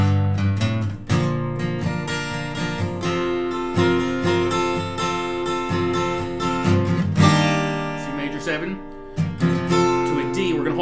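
Guitar strummed through chords in the style of a rock song, moving from verse into chorus; steady, full chord strums ring continuously and close up, with brief breaks between changes and no talking.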